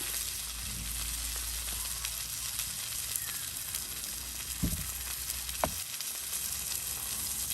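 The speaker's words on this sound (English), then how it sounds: "Alright, well that's sizzling away." Continuous sizzling and crackling of food cooking on a backyard grill, with a couple of brief clanks from utensils.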